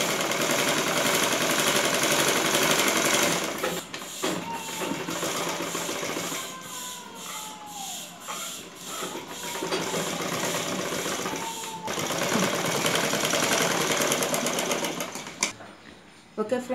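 A sewing machine stitches piping onto a saree blouse, running in fast, loud mechanical bursts with short pauses between runs of stitching.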